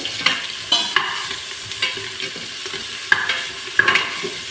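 Finely chopped onions sizzle in ghee for ghee rice, a constant bright hiss broken by repeated scraping strokes of a spatula stirring the pan, close up and without speech.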